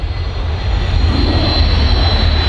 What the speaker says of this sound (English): the Vampire was designed by the de Havilland Aircraft Company back in 1942 and was the RAF's second jet fighter